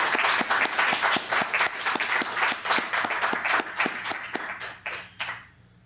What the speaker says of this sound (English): Let's give her another great round of applause.